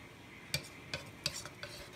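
A spoon scrapes and clicks against a bowl while stirring homemade slime, a few soft separate strokes spaced about half a second apart, quiet and close with no speech.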